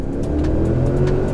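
A 2021 Cadillac Escalade ESV's 6.2 litre V8, a 420-horsepower engine in a roughly 6,000-pound SUV, revs loudly and steadily from close by, a dense low rumble holding through the whole moment with no talk over it.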